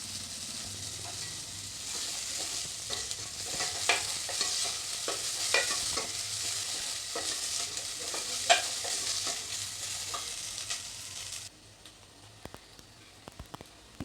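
Finely chopped onion sizzles and crackles in a hot pan for palak stem soup, with stirring clicks and scrapes scattered through a steady frying hiss. The sizzle drops away abruptly near the end.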